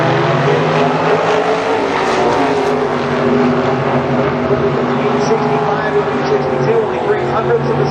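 A 632 cubic inch Chevy engine roars in the left lane of a drag race alongside a Corvette, a loud continuous blast of engine noise heard up close under a commentator's voice.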